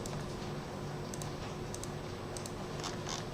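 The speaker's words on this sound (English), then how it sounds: "just press the delete key on the keyboard in case you are figuring out how I'm deleting" Keystrokes on a computer keyboard, with typing and a few presses of the delete key, come as sparse, crisp clicks over a steady low hum. No one speaks.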